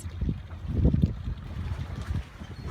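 Gentle water lapping and a low rumble of boats in a harbour at San Remo, Italy, with soft wind noise throughout and no voices.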